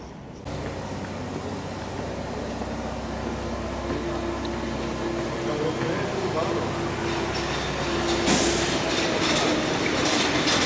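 A train pulling into a Paris station produces a steady low rumble with rail clatter and a rising hiss or screech near the end, while people talk nearby.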